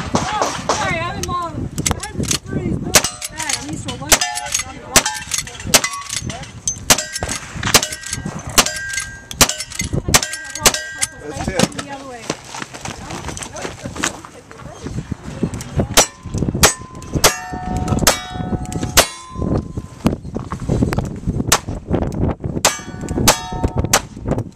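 Rapid gunshots ring out at a cowboy action shooting match, each followed by the ringing clang of struck steel targets, repeated steadily over about twenty-five seconds with a timer beep and clattering in between.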